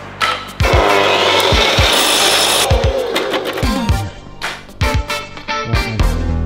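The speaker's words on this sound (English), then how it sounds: "I've now been entrusted with measuring and cutting down the wall planks" Wooden wall planks being cut to length for a camper van conversion, with loud rasping, scraping saw strokes and knocks and thumps of timber handled nearby.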